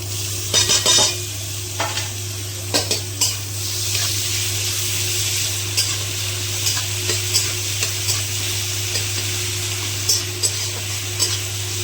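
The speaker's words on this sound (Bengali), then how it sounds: "পেঁয়াজটা ভাজা ভাজা হতে থাক।" Onions frying in a pan for stuffed pointed gourd, a continuous sizzle broken by repeated spatula scrapes and clinks against the pan, close and fairly loud.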